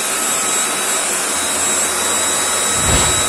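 An Electrolux 2-in-1 stick vacuum cleaner runs loudly, a steady close whooshing roar of airflow with a high whine and a slight bump near the end.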